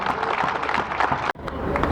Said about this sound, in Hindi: एक बार जोरदार तालियां सभी खिलाड़ियों के लिए।